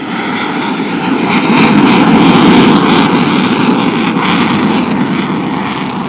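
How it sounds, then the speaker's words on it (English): A Pakistan Air Force F-16 jet flying past at low speed during the Pakistan Day parade, a loud, continuous roaring engine that swells slightly in the middle and holds steady, with no talking. "پاک فضائیہ کا F-16 اس وقت سلامی کے چبوترے کی جانب گامزن ہے"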